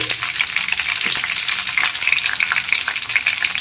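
Tomato pieces frying in hot tempered oil with lightly fried whole spices for a rohu fish curry with winter vegetables, giving a loud, steady crackling sizzle with brief stirring scrapes throughout.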